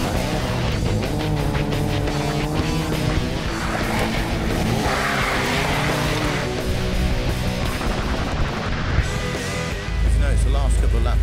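A car slides on a race track with tires squealing, a continuous loud engine and skid noise under ongoing talk from people in the car.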